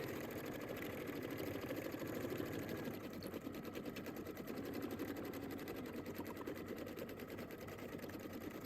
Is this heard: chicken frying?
no